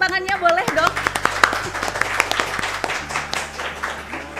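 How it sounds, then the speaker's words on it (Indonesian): Audience clapping for the Mayor of Blitar at a podcast recording, a brief scatter of close, individual claps with a voice talking at the start and a low background hum throughout. "Tepuk tangannya boleh dong"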